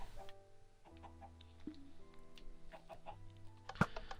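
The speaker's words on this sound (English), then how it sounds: "get rid of these chickens" Minecraft chickens cluck in scattered bursts over a quiet game background with sustained music tones, a few short clucks close and clear, one louder near the end.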